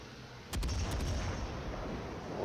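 Guns of a Leander cruiser fire in World of Warships, one sudden booming salvo with a couple of quick sharp cracks, followed by a sustained rumbling tail.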